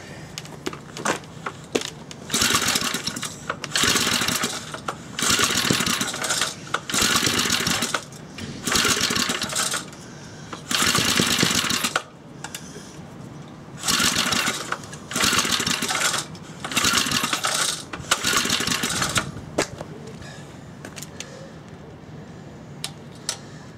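A small engine with a JB Weld-repaired scored cylinder is started repeatedly, giving loud bursts of running that cut out and restart in an uneven series of roughly one- to two-second surges, with quieter gaps between them.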